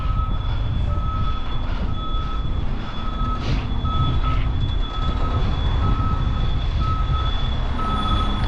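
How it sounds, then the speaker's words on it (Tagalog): Reversing beeps from a garbage truck on a Canadian street, a steady repeating beep pattern sounding continuously over loud wind and road noise from a bicycle ride. "May truck ng basura."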